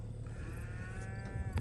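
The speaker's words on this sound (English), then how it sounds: "The cows over here, let me show you." Cattle on a farm where corn is being chopped for silage, giving a sustained low moo that stays fairly faint against steady background noise.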